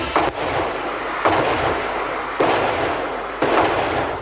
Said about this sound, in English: a fireworks spectacular that dazzled the crowd